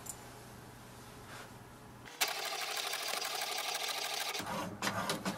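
An HP DeskJet 2732 inkjet printer prints a document with a fast mechanical whirring and chattering of the print carriage, starting after a quiet lead-in and stopping briefly before resuming.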